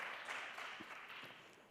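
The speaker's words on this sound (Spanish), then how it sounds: "un aplauso para esta barbaridad" Audience applause in a conference hall, faint and even clapping that carries on for under two seconds and fades slightly toward the end.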